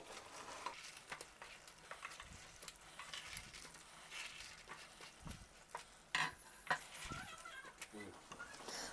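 A cooked gooseberry and jaggery mixture is stirred in a pan over medium flame, giving a faint sizzle with soft scraping and a few clinks of a spoon against the pan.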